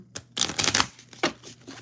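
A deck of tarot-style cards being shuffled by hand, several quick riffling bursts of crisp flapping and clicking, close and fairly quiet, with no talk.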